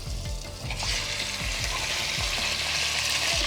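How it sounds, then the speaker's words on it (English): Pieces of mutton being added one by one to hot ghee and oil for a festive mutton korma, frying with a steady close sizzle that swells after the first second, with faint clinks and stirring underneath. "Now what we're going to do is we're going to add our mutton into this oil"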